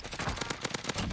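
Rapid automatic gunfire in Call of Duty Warzone, a quick burst of about eight sharp shots in close succession, loud and near with no talking over it.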